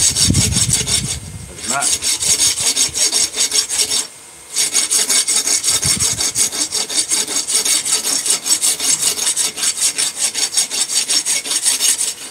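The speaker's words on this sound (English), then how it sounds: "The rasp will take it off." A rasp files wood in steady, continuous rough strokes, close and loud, with two brief pauses; a short spoken remark is heard early on.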